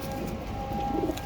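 A pigeon coos once, softly and close by, a short low burble against quiet ambient noise.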